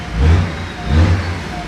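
A BMW 335d diesel engine idles with its covers off, then is blipped twice, rising in short rumbling surges before settling back, close and fairly loud.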